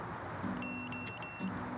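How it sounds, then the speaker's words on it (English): A steady electronic beep tone from a dog training recall signal sounds for about a second over a quiet background hum, with a faint low whine underneath. "I'm gonna try the beep now."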